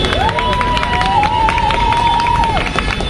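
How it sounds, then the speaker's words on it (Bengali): An audience applauds and cheers for a film director at a gathering, with a dense crowd roar of clapping and shouts running throughout and a high whistle-like tone rising above it. "আমার পরিচালকের জন্য যেটা জোরে হাততালি হোক"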